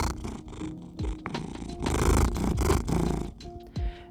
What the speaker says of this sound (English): my cat is sitting on my lap. I don't know if you can hear him purring